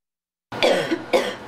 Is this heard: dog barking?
no